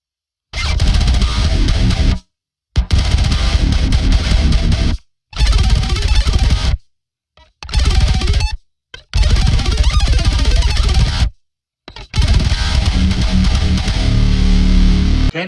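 An electric guitar played live through heavy artificial effects, producing dense, distorted, cacophonous bursts separated by short silent gaps.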